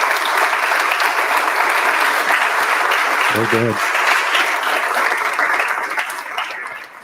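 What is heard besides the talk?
audience applause for a presenter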